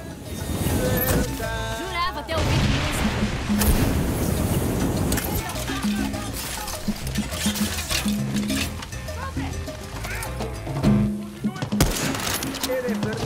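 Gunfire in the action video game Far Cry 6, with bursts of shots mixed into dense game music and effects, sustained and loud throughout.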